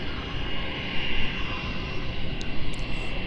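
A Jetstar airliner taxiing to its gate at Melbourne Airport, with a loud, steady jet engine roar and whine held close throughout.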